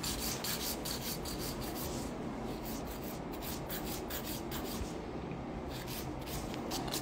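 A nail file rasps across acrylic gel nails in rapid, steady back-and-forth strokes, close and continuous with a dry scratchy texture and no talk.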